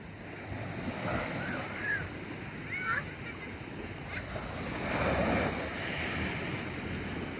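Waves roll in at Pantai Puteri beach in Melaka, a steady wash of surf mixed with wind noise on the microphone, with faint voices of people nearby.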